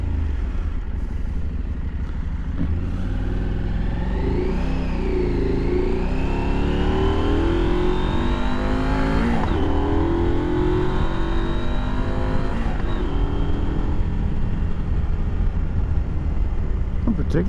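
A 2022 Husqvarna Norden 901 motorcycle engine is heard while riding, a loud, continuous drone that rises and falls through several rev sweeps and gear changes over steady wind rush.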